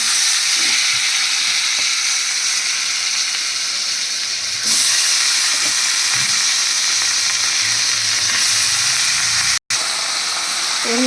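Boiled cabbage fries with green chillies in a hot pan, a loud continuous sizzle and hiss close up throughout, briefly cut off near the end, with no talking.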